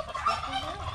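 A goose honks once close by, a short nasal call with a wavering pitch, heard alone without talk.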